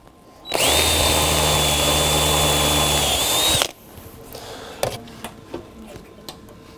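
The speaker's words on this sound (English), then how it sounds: "Now I'm gonna drill out the main section." A power drill bores out a hole for a leveling foot in a metal end table part, a loud steady high whine for about three seconds, then stops, followed by faint clicks and light metallic handling.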